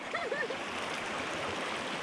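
A cold stream keeps up a steady, full rush of flowing water close by. A faint whistled or chirping note drifts over it near the start.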